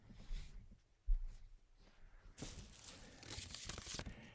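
Papery riffling and snapping of a card deck being shuffled nearby, soft rustles at first, then a dense, louder flurry of card flicks.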